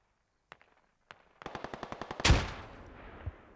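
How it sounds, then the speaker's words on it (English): Gunfire and explosions in the Squad video game: two isolated shots, then a rapid burst of about nine automatic rounds ending in a loud grenade blast that rumbles and fades. "Grenades going off, mopping up the last of the infantry."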